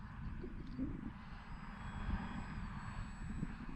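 A HobbyZone Carbon Cub S2 RC plane taking off into the wind, its small electric motor giving a steady, fairly faint buzzing drone with outdoor wind noise throughout.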